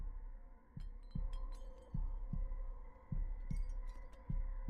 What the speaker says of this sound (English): Usually if the heartbeat's going, that means there's hunt.